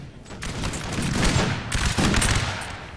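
Musket volleys from Napoleonic infantry in the Napoleon Total War video game crackle as a dense, overlapping fusillade of loud gunfire, with rolling bursts continuing throughout.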